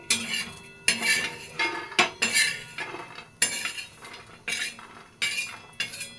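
Roasted coconut scooped out of a hot pan with a metal spoon, a series of close, sharp scrapes and clinks in uneven bursts, about a dozen strokes with brief pauses between them.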